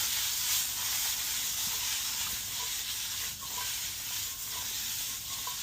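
Seasoned vegetables sizzle in an 8.5-inch Our Place titanium pan, a quiet, steady hiss with faint crackles and a few light stirring touches, no voices.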